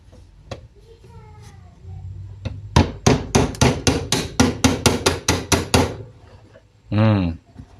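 A hammer taps a metal part of a jammed mixer into place, a run of about fourteen sharp, evenly spaced knocks close by, preceded by a few softer clicks and followed by a brief squeal.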